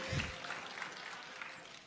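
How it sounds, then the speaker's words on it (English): A café-style audience at the Kigali Convention Center claps, a faint, diffuse patter of hands heard at a distance in a quiet room, with a brief stronger burst at the start. "We should clap for them."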